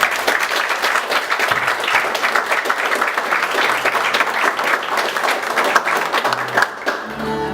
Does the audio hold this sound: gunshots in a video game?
no